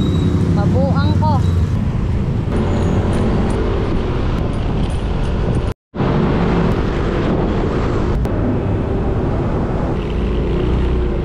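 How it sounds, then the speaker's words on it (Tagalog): Dense city road traffic surrounds a car stuck in a heavy jam, with a steady broadband rumble of engines and tyres throughout and a brief near-silent dropout near the middle. "Sobrang traffic as in."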